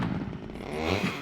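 Chainsaw in the survival game SCUM cutting logs into planks, a steady buzzing engine drone with wavering pitch, moderately quiet and alone.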